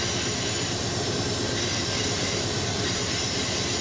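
A CP Rail coal train with a distributed power remote locomotive working mid-train passes with a loud, unbroken roar of engine and wheels on rail, steady and close throughout.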